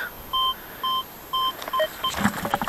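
A Fortuna Pro2 metal detector sweeping a field gives a series of clean, evenly spaced electronic beeps, four steady tones followed by shorter chirps, close and clear with faint rustling after.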